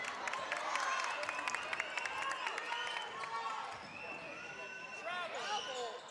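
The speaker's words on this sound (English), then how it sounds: "Crowd wanting a foul." Home crowd at a girls' high school basketball game between Columbus Academy and Buckeye Valley yelling and calling for a foul, a loud, sustained roar of voices with sneaker squeaks over the court, steady throughout.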